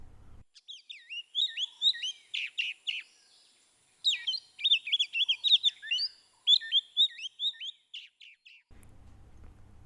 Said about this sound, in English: This is the country of young semalau birds, which chirps all day from morning until dusk